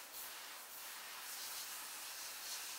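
Scrubbing Bubbles foam cleaner sprays from an aerosol can onto wooden kitchen cabinets, a steady close hiss that runs unbroken for nearly three seconds with no talk.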